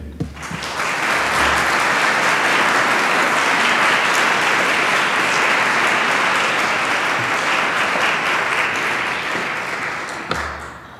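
Sustained audience applause at a museum lecture as lecturer Sarah Whitfield is welcomed, a dense, even clapping from a sizable crowd that holds steady for about ten seconds and then fades.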